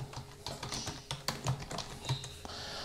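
Fingers typing on a computer keyboard, a quick irregular run of light, close key clicks heard on their own.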